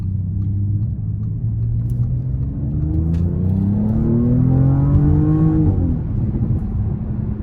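A 2023 Audi S7 Prestige with its 2.9-litre twin-turbo V6 pulls hard under full throttle, a steady rising engine drone climbing through the gears for several seconds before easing off near the end, heard from inside the cabin.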